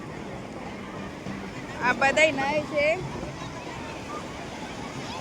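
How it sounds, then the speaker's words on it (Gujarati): Sea waves wash steadily around a boat out on open water, a constant low rushing with wind noise, while people talk briefly over it in the middle. "હવે અમે એન્ટ્રી કરી લીધી દરિયામાં."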